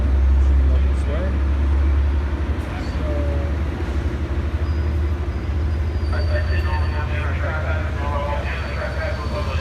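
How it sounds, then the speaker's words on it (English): Train 706 departs from Fullerton with a steady, loud low rumble of engine and rolling cars that holds throughout, with faint higher squeals near the end and voices in the background. "over here is train 706 departing Paris."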